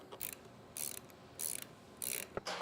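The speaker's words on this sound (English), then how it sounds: "And then we recommend hand tightening." Hand tightening a bolt fitted with a bonded washer while installing an Atlas roof rack on a 2024+ Toyota LC250 or Lexus GX550 gives four evenly spaced bursts of raspy ratchet-like clicking, close and fairly quiet, with short pauses between.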